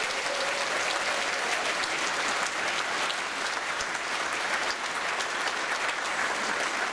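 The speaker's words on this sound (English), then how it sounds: "How about a round of applause for all those people?" A banquet crowd at the 2017 PaizoCon preview gives the developers a round of applause: dense, sustained clapping that stays loud and even for about seven seconds, with no talking over it.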